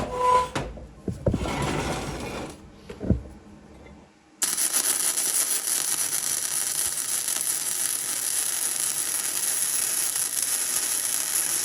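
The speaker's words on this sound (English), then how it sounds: "I want to weld them in earnest this way." Metal frame parts for a DIY motion simulator platform are welded. A few clanks and knocks come first, then a steady, loud crackling hiss runs without a break to the end.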